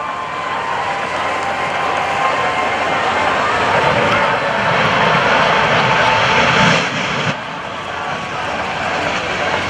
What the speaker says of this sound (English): He's turning that little jet engine up.